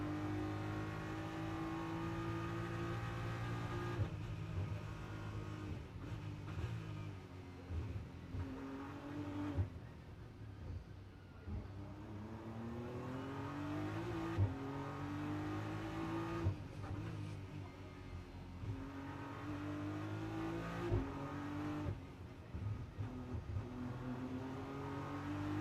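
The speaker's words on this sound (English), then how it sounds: "and a great noise from the BMW" A BMW GT race car climbs San Francisco Hill on the Macau street circuit during FIA GT World Cup qualifying, its engine revving hard through repeated upshifts, loud and close, with no talk.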